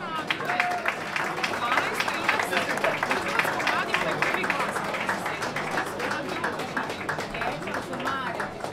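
Sustained crowd applause at the Mega Muzika music awards presentation, steady dense clapping from a large audience with some crowd chatter mixed in.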